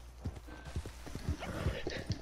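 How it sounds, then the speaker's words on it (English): Horse hooves clip-clop in the video game Red Dead Redemption 2, a series of low, uneven thuds at a walking pace, fairly near and moderately quiet over faint ambient noise. "Come on, horse."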